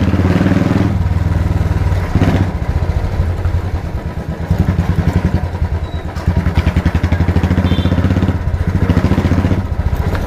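A Royal Enfield Classic 350 with a GT megaphone silencer rumbles loudly on a local street, its thumping exhaust beat pulsing steadily with repeated revs rising and falling, close and alone.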